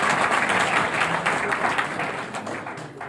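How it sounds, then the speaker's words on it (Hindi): A crowd at an indoor gathering breaks into loud applause, a dense wash of many hands clapping that gradually tapers off over a few seconds. "एक बार जोरदार तालियां इनके लिए हो जाए"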